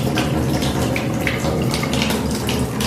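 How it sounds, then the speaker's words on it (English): A waterfall tap runs into a bathroom sink in a newly renovated luxury bathroom, a close, steady gush of water that continues without a break and with no one talking. "Right here we have a waterfall tap."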